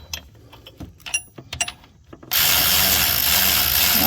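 Metallic clicks and ratcheting of hand tools on an alternator bolt of an Acura MDX, then a sudden steady loud whirring hiss as a power tool runs the bolt down, continuing to the end.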